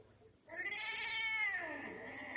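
A cat gives one drawn-out, rising and falling meow lasting about two seconds, close and clear against a quiet background.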